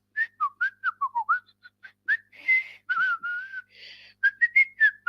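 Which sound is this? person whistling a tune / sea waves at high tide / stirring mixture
person whistling a tune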